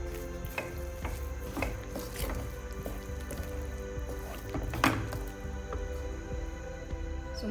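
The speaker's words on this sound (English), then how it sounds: "And now finally I am going to add the jaggery powder and going to mix it well." Jaggery powder being stirred into rava (semolina) kheer, a festive sweet payasam, with steady scraping and soft wet squishing from the spoon moving through the thick mixture in the pot, close and continuous with a few sharper knocks.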